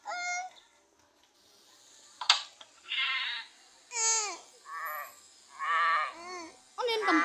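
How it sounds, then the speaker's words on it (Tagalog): A goat bleats about five times in a row, close and fairly loud, each wavering call separated by short pauses over a quiet background. "Ano yun, kambing?"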